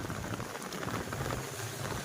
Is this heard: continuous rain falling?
yes